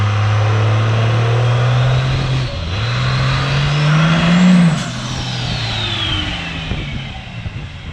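A 2nd gen Cummins diesel race truck launches hard, its loud low engine roar holding steady, dipping briefly, then surging in pitch before easing off to a lower rumble.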